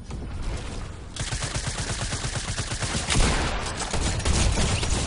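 Rapid, loud video-game shotgun and gunfire blasts in a dense continuous volley, close and harsh throughout with no voices over it.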